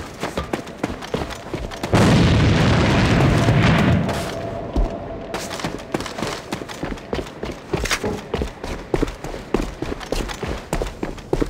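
A grenade explodes in the shooter game A.V.A., a loud, broad roaring burst lasting about two seconds that then fades into a steady run of quick gunfire and footstep clatter.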